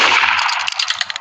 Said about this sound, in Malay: Dia tembak.